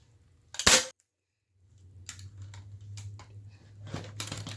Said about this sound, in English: I am going to use my staple gun to hold it down